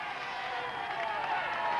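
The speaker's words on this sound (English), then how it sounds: "Huge crowds here" A roadside crowd cheers along the Tour de France stage route to Dax, with a faint, distant, continuous wash of cheering and clapping heard briefly.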